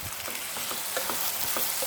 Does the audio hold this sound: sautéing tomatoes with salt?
yes